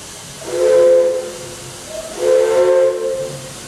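Two long steam train whistle blasts sound one after another, loud and near, each with a hissing, breathy edge over steady background rumble, at Disney's Magic Kingdom as the train departs.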